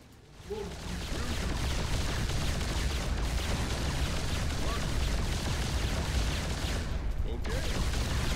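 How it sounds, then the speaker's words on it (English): Steady barrage of explosions and weapon fire as enemies assault the player's base in the strategy game StarCraft 2, a dense continuous roar with a faint voice briefly underneath. "Those explosions you hear, that's your base being blasted."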